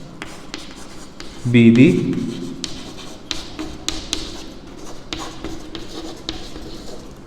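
A pen writes by hand on paper while a probability problem is worked out, giving soft, scattered scratches and taps close by, with a short burst of a man's speech partway through.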